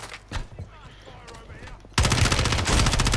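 Dense burst of video game gunfire in a multiplayer shooter, starting with scattered shots and then erupting into loud, continuous rapid fire for the final second and a half.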